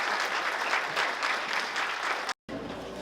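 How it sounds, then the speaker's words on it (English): Audience members at an Edmonds City Council and Port Commission candidate forum give the panelists a steady round of applause, dense and moderately loud, broken by a brief dropout near the end. "Round of applause for our panelists."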